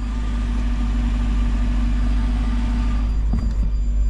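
A passenger car's engine idles and runs steadily while reversing slowly into a parking space beside the kerb, a constant low rumble with no talk over it.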